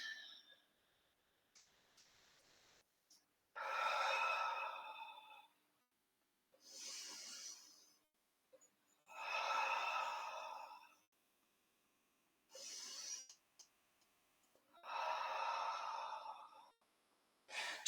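Slow, deep breaths during a mat pilates spinal twist, airy inhales and exhales alternating at a calm, regular pace in near silence, close and soft.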